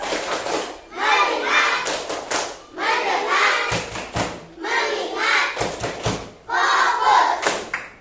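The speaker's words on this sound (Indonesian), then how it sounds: "Tepuk fokus" A primary school class claps in rhythm while chanting, with sharp hand claps and thumps punctuating repeated bursts of children's voices, close and lively.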